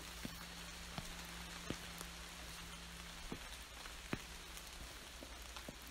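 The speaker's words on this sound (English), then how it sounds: "I'm sure you all are able to hear the rain in the background as I'm filming this. It is drizzling a little bit here in the garden" Light drizzling rain falling steadily in a garden, a soft continuous patter with scattered louder individual drops, faint and alone with no talking.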